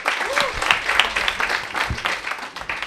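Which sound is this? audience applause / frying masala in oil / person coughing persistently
audience applause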